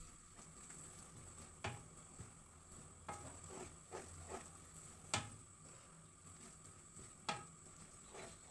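Ash gourd halwa being stirred in a pan: a soft sizzle runs under scattered scrapes and knocks of the spoon against the pan, with louder clacks at irregular intervals.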